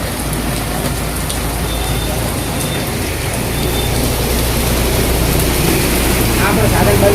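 Heavy rain falling on a flooded road in Radhanpur, a loud, close, unbroken hiss and patter that holds steady throughout, with faint traffic rumble underneath.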